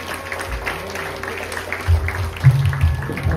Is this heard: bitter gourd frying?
no